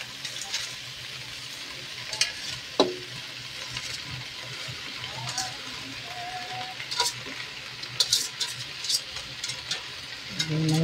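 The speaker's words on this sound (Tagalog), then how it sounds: "Lalagyan na natin yung repolyo." Cabbage is sautéed and stirred in a hot pan for ginisang repolyo, with a steady low sizzle and scattered scraping and clinking of the utensil against the pan, heard close with no talking.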